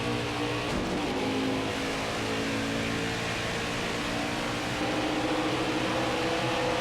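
A NASCAR race car in NASCAR Heat 5 holds a steady, droning engine note at high revs, loud and continuous with a slight lift midway, no talk over it.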